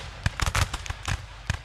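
Musket gunshots in the battle game Rise of Liberty, a quick burst of sharp cracking reports with several shots overlapping and others spaced out, moderately distant and fairly quiet, with no talking.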